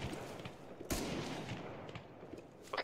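Gunfire in the Arma game mode Antistasi comes as one sharp nearby shot, then a few faint distant cracks over low background rumble, quiet overall with no voices.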